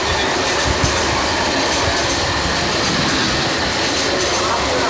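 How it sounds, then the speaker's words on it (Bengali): The Bijoy Express train rumbles past close by in Bangladesh, loud and continuous, with rhythmic clatter of wheels on the rails throughout. "বিজয় এক্সপ্রেস ট্রেন একটু পরেই যাবে"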